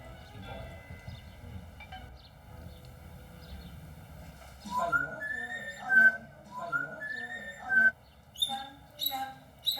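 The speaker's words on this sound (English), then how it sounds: "the parrot starts whistling." A parrot whistles after sipping port, starting with quieter chirps and then giving a run of loud, clear, repeated whistle notes in bursts, with some narration audible under the early part.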